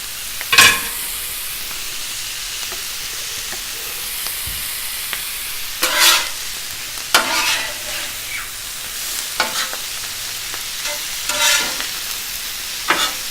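Leftover prime rib sears in a hot pan as its fat renders, a steady close sizzle broken by several louder bursts of spatter and stirring scrapes.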